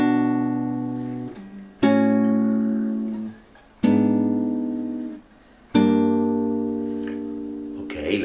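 Fingerstyle acoustic guitar playing two measures of a song from Toy Story 2, four plucked chords struck about two seconds apart, each ringing and fading, clear and close with no talk.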